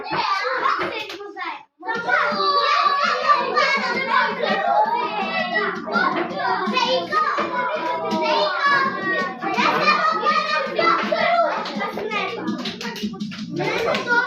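A group of children claps for a classmate during a classroom musical chairs game; lively clapping runs the whole time, tangled with excited chatter and shouting from the kids nearby.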